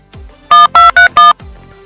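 Four loud keypad dialing tones in quick succession, each a steady electronic beep with short gaps, over a faint background hum.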